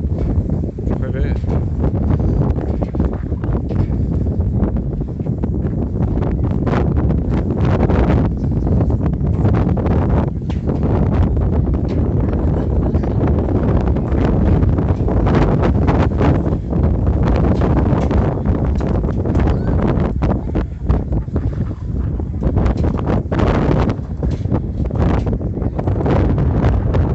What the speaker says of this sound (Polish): Trochę wieje.